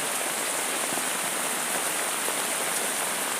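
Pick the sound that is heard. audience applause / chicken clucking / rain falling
rain falling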